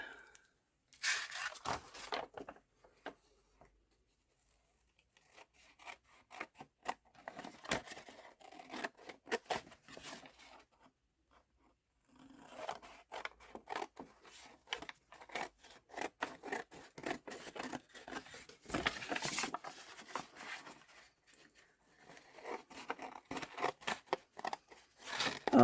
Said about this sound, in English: mucky scissors